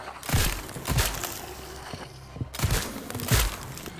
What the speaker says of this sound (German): So eine alte Zweite Weltkrieg-Flinte hier.